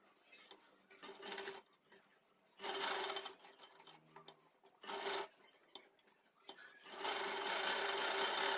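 A sewing machine stitches the cuffs of a child's kurta in several short whirring runs split by pauses, and it ends with a longer continuous run, all heard close up.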